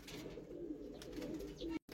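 Faint, steady low cooing from pigeons in a loft holding female pigeons, continuing without a break before cutting off abruptly.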